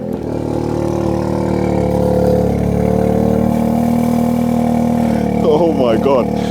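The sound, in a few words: car engine cold start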